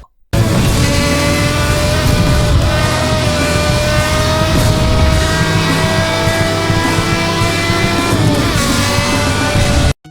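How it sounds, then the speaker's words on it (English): A sports car engine in the video game Need for Speed Hot Pursuit roars steadily at high revs, loud and close, with shifting tonal whine throughout, alone without voices. "this car has, in my opinion, the best engine sound in the game"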